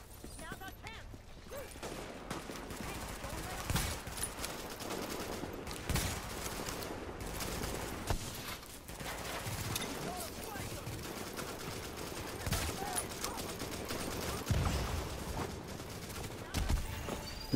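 Rapid automatic gunfire and scattered shots in the online shooter Tom Clancy's The Division, bursts of fire recurring throughout at moderate distance beneath a voice talking over the action.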